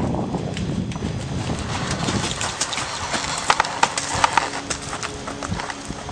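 A ranch horse named Sadie approaches and leaps a wooden cavaletti set a little high, hooves thudding and clopping on the ground, with a few sharper knocks near the middle as the jump lands, all fairly close.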